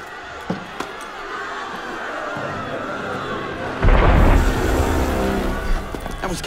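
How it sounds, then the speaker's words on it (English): A deep boom bursts out midway over a rumbling background, followed by a rolling, crackling roar that slowly fades, like a cannon firing nearby, in the video game Assassin's Creed Unity, set in Paris, 1789. "That was cannon fire."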